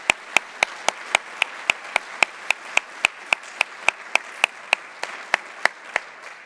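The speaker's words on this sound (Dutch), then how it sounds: "Mag ik een groot applaus voor onze sprekers." Audience applause for the speakers at a university lecture evening, with one close pair of hands clapping in a steady, even beat over a softer bed of crowd clapping, lasting several seconds at moderate loudness.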